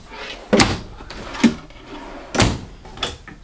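Four close wooden knocks, spaced about a second apart, as drawers slide open and bump shut in a 2022 Grand Design Reflection 31MB travel trailer.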